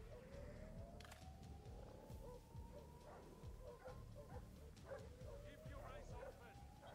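Dogs barking and yipping in the stealth video game Splinter Cell: Blacklist, repeated barks under a dense, noisy game soundscape with a steady rising electronic tone and background voices.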